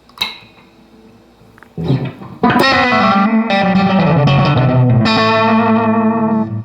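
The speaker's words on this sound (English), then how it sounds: "Nice and warm, glassy, but gets into space a little bit." Electric guitar run through an Ibanez AD-80 analog delay set to a short slapback, warm and glassy. After a quiet pick at the start, loud sustained chords ring out with a tight echo and a thick, slightly distorted, chorus-like shimmer.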